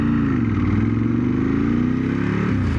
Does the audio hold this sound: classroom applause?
no